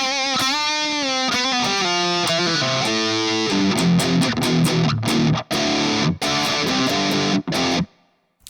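Distorted metal guitar riffing through a Celestion Vintage 30 speaker in a 4x12 cabinet miked with an SM57, heavy chugging chords with sustained notes, then tight stop-start palm-muted hits with sharp silences before ringing out.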